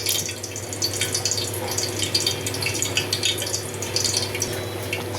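Potato curry bubbling at a steady boil in a pot, a continuous close hiss and burble with no talk.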